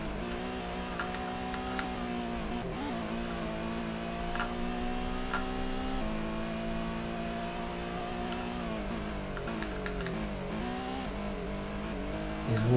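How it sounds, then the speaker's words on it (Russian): A Nissan 180SX engine in the Gran Turismo video game, a low, steady droning hum with gear-change dips and rising revs, continuous and alone without speech. "И звук мотора мне нравится."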